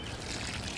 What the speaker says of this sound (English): And just water them in, something like that.